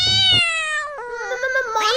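Cartoon cat gives one long, high, tonal meow that bends downward and then wavers back up, loud and close with nothing else around it.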